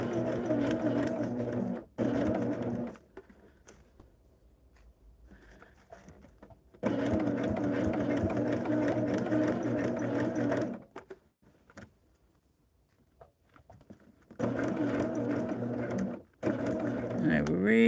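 A sewing machine stitches quilt fabric for a Double Wedding Ring quilt in three steady runs of whirring, separated by pauses, with a person talking during the quieter gaps.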